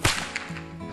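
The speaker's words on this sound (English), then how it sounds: "they would pop and crack the cow whip" A cow whip used for herding cattle cracks once with a sharp, loud snap like a gunshot, and a brief ringing tail fades behind it.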